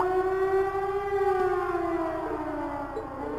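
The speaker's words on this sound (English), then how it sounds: "Sounds like a siren." A loud, sustained siren wail in the video game Trails of Cold Steel, coming from a fort, holding a steady pitch, then slowly sliding downward as it winds down.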